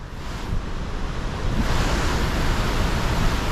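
Creek water rushes steadily nearby on a hike along the Miller River, a constant broad wash that swells louder partway through, with wind noise on the microphone and no voices.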